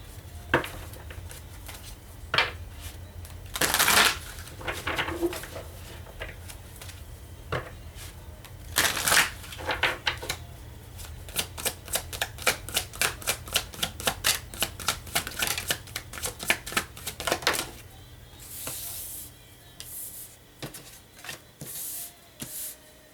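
Tarot cards are shuffled by hand in repeated bursts of crisp riffling and flicking, with fast rattling runs in the middle and quiet pauses between, close up with no talk.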